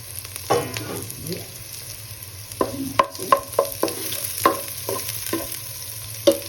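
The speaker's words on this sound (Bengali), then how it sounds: "এবার আমি আলু কয়েকটা দিয়ে দিচ্ছি," Potatoes frying with onions in hot oil in a pan for Katla fish curry, a constant sizzle broken by a rhythmic series of distinct spatula scrapes and clinks against the pan, close and fairly loud.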